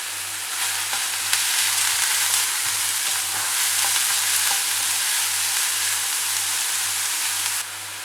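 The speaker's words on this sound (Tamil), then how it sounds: "அதுக்கப்புறம் வெங்காயம், இஞ்சி, பச்சை மிளகாய், தேவையான உப்பு போட்டுக்கிறேன்." Onion, ginger and green chilli with cumin fry in hot oil, making a steady loud sizzle that runs unbroken for about eight seconds, with occasional stirring scrapes, then cuts off near the end.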